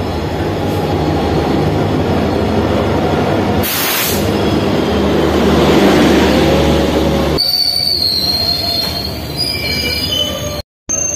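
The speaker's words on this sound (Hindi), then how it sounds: "तो गाइस हमारी ट्रेन आ गई है" A train pulls into a station, its wheels squealing loudly over a steady rumble of rolling cars, with metallic screeches rising near the end; close and loud, no talk.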